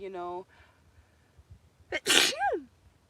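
A single loud, close sneeze bursts out after a brief voiced sound, followed by a short trailing vocal exhale.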